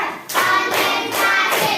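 Hands clap in a classroom in a counted sequence, with three or four sharp, loud bursts, each followed by a short ringing decay, spaced evenly and heard close with no talking.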